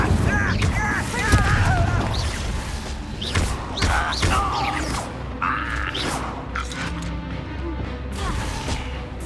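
A fire spell cast in Hogwarts Legacy during a fight at a tower encampment gives crashing, whooshing bursts over dense game combat noise, with scattered impacts and thuds and a low rumble running throughout.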